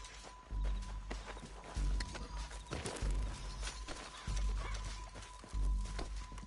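Hooves clip-clop in Red Dead Redemption 2 as a horse moves at a steady gait, heavy rhythmic thuds repeating in regular groups amid faint game ambience.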